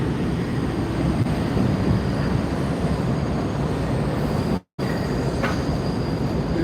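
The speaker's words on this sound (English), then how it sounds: "Alright, so let's look at the train." A train rolls along railroad tracks in Brooklyn, New York, giving a steady, moderately distant rumble with faint clatter, broken by a short gap partway through.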